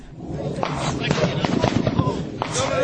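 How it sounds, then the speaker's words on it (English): Sharp, snapping cracks of heavy rifle rounds passing overhead during a firefight with Marines in Afghanistan, several irregular close reports over steady wind noise. "Listen closely, as bullets pass overhead from a rifle heavier than a Kalashnikov."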